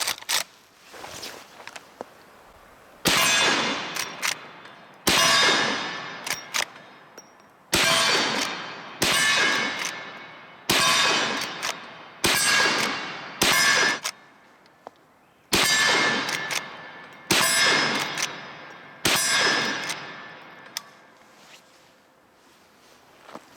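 A Henry Big Boy .44 Magnum lever-action rifle fires at steel targets. Eight sharp shots come at roughly two-second intervals, and each one is followed by a bright metallic ring that decays before the next shot.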